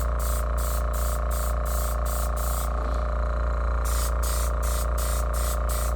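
An airbrush sprays paint lightly onto a repaired antler from several inches away, a steady hiss under a constant compressor hum, with short rhythmic bursts pulsing on and off as the spray is fanned.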